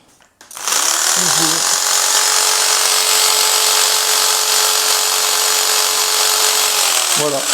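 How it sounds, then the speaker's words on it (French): A small 350-watt electric jigsaw plugged into an Ecoflow River Pro power station runs steadily and loudly for about six seconds after a brief start, its motor whine holding a constant pitch before winding down. "la petite scie sauteuse qui, elle, est donnée 350 watts quand même"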